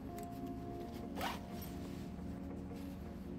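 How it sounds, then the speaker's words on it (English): A zipper on a small pocket of a Brevitē Jumper camera backpack is pulled shut in one quick, close rasping stroke, with soft handling noise and a low steady hum around it. "throw those in there, zip that up."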